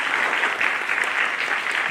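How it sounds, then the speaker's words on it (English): Steady applause from an evening school audience clapping for the parents, a dense continuous patter of many hands held at an even level for the full two seconds with no talk over it. "First clap for the parents"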